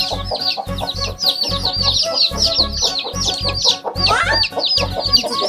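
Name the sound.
chicken clucking near a chick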